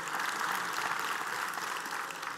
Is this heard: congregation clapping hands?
yes